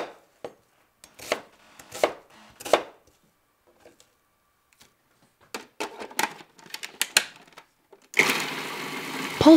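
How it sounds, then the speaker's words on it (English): Onions are roughly chopped with a knife on a board, sharp thuds in a loose rhythm, a pause, then a quicker run of cuts, ending with a burst of food processor whirring. "Then peel and roughly chop the onions."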